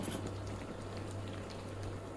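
A potato-stuffed flatbread fries in hot oil: a faint, steady sizzle and soft crackle over a low hum, with no talking.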